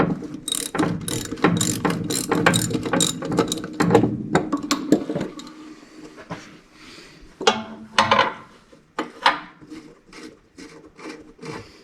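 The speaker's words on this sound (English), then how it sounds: "Let's get a ratchet." A hand ratchet turns a sway bar link bolt on a 1984 Mercedes-Benz 300D, making close, bursts of rapid clicking strokes with pauses and some rubbing between them.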